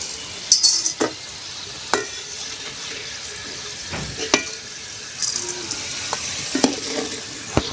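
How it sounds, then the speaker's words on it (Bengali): Lentils for dal chanachur fry in oil with a soft, steady sizzle. Sharp scraping and clinking stirring strokes recur throughout, close and moderately loud. "মা ওখানে আরেকগুলো ডাল ভেজে নিচ্ছে"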